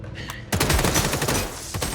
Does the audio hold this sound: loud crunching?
no